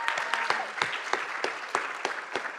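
Sparse audience applause at a CSUSB leadership event, a small crowd clapping unevenly with distinct individual claps standing out, moderately close and steady for a few seconds with no talk over it.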